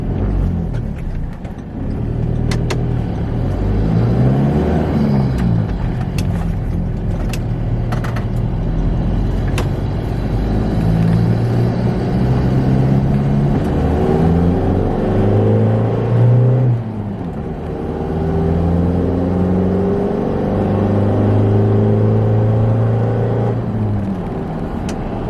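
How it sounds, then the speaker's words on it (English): A Ford Ranger fitted with a pod air filter accelerates hard, its engine rumbling and rising through the gears, with pitch sweeps climbing and dropping back at each shift, loud and close with no talk. "And now for the acceleration test."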